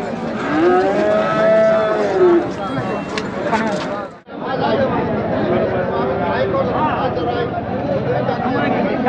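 A bull moos loudly and at length, joined by other cattle lowing in the noisy Chakan cattle market, with people talking in the background.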